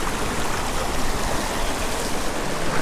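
Steady, dense rushing of a waterfall cascading down bare granite into a creek pool, loud and unbroken from start to end with no voices over it.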